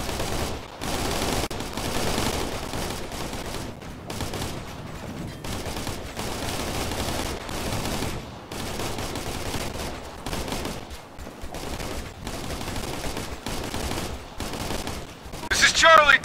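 Sustained suppressing gunfire from the military shooter Operation Flashpoint: Red River, steady and loud across the whole stretch, with dense overlapping bursts and a brief louder flurry near the end.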